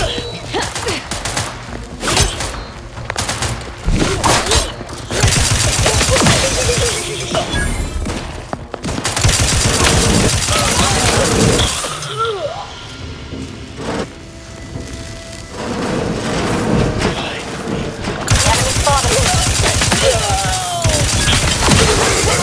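Rapid bursts of gunfire in the sci-fi game The Outer Worlds, dense and loud, with crashing impacts and clattering in a chaotic firefight that eases briefly before flaring up again.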